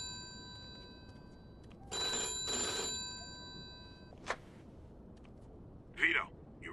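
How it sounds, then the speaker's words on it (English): A telephone ringing in the video game Mafia 2, two bright electronic ring bursts in a quiet room, followed by a few short clicks and handling noises. "Alright, let's answer the phone."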